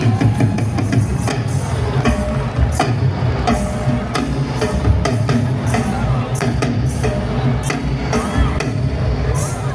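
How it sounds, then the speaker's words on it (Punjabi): A large crowd at the Sikh Games Sydney opening ceremony cheers and applauds continuously, a dense loud wash of clapping and voices with steady intensity throughout. "ਪੰਜਾਬ ਦੀ ਅਕੈਡਮੀ ਪਲੀਜ਼ ਇੱਕ ਵਾਰ ਜ਼ੋਰਦਾਰ ਤਾੜੀਆਂ"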